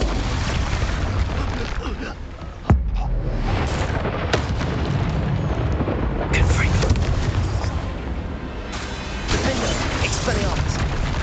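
Expulso spell blasts in Hogwarts Legacy, a loud dense rumbling explosion with a sharp boom near the start, then continuing crackling, booming game effects throughout.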